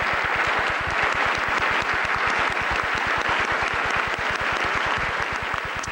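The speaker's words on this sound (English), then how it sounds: "Applause in the audience." Sustained applause from an audience at the United Nations, dense steady clapping filling the hall at even loudness throughout, with no speech over it.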